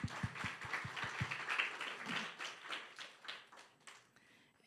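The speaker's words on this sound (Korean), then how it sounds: "우리 박수 한번 쳐주겠습니다" A church congregation claps during a Sunday morning service, starting with a few distinct hand claps and swelling into soft, sustained applause that gradually fades out.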